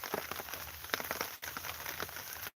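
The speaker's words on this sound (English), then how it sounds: "Yeah, rain don't bother me while I'm fishing." Rain falls steadily outdoors at a backwoods fishing spot, a dense crackling patter of drops on surfaces, continuous and close, with a brief dip partway through.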